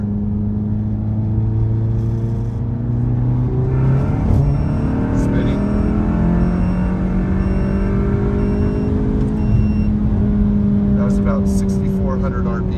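A car engine drones loudly from inside the cabin, its pitch climbing steadily as it accelerates, with a brief gear change midway; a voice talks over it.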